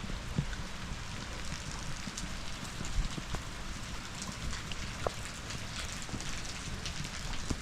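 Rain falls steadily outdoors at a patio work site, a continuous hiss with scattered drop ticks and taps, moderate in level and with no one speaking.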